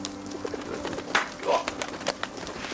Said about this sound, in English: Not those bloody pigeons again.